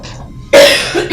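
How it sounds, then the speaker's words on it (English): After a faint murmur, a woman gives one sharp, loud cough up close indoors, followed by a brief rasping trail. "I'm coughing."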